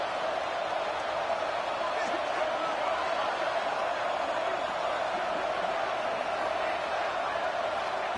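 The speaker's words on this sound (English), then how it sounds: "It's early, but this crowd is fired up. Listen to this noise here." Stadium crowd at a football game roaring in a steady, dense wash of cheering that holds at a constant level throughout, with no clear individual voices standing out.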